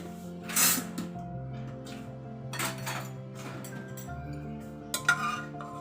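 Pressure cooker lid opened after cooking dal: a short hiss of steam, then metallic clinks and scrapes of the lid and pot, with a hum underneath.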